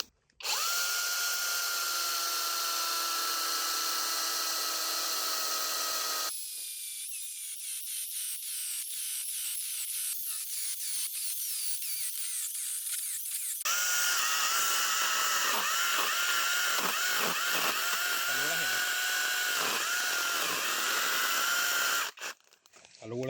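A MASARU SCS-420 cordless chainsaw with a short bar runs loud and continuously while plunge-cutting into hard-cored wood; the motor pitch shifts as the blade bites deeper, with brief pauses between stretches.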